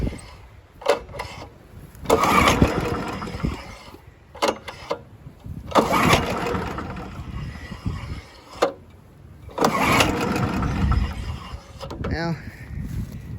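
A Honda HR214 push lawn mower is pull-started repeatedly, each yank of the recoil cord giving a short rasping burst separated by pauses, with no sign of the engine catching.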